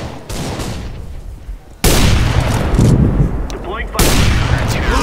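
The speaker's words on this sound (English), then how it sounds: "Deploying flashbang." A flashbang grenade goes off in a video game amid bursts of gunfire-like blasts, with loud abrupt jumps in level and dense crackling noise that sits close and fills the whole stretch.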